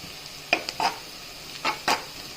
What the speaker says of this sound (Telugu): ఉల్లిగడ్డలు ఫ్రై అవుతాయి.